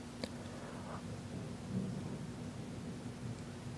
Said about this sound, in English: Some more thunder for you.